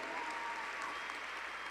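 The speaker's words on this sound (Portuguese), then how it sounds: "Pode aplaudir ao Senhor." A church congregation at a conference applauds, a dense, even wash of many hands clapping throughout with no break.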